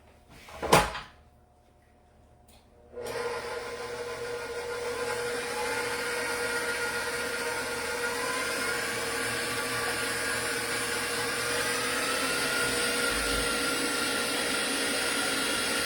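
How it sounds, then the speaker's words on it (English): An electric mixer whisks six egg whites from a spot set well back in a kitchen. A single sharp knock comes first, then a short lull, then a steady, continuous motor whir that holds evenly to the end. "So I'm going to whisk up some egg whites."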